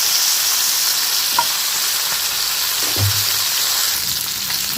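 Fish fry sizzling in a pan, a loud, close, unbroken crackling hiss with a faint utensil knock partway through and no talk.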